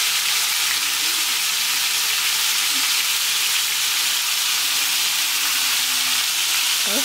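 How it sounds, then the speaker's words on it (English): French fries frying in hot oil give a steady, loud, dense sizzling hiss that runs unbroken throughout, with a faint whine and a brief squeak near the end. "the fries are still cooking"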